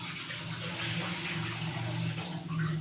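Two litres of water poured into a wok (kadhai) for cooking rice, a steady close gushing splash with a low, hollow tone that runs without a break.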